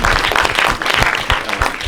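Audience applause at a post-screening Q&A for a shorts program at a film festival, a steady burst of many hands clapping filling the whole moment.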